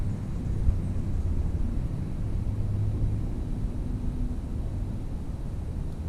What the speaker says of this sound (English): there is another manned aircraft.